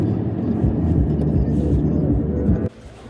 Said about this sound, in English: so I'm finally at the airport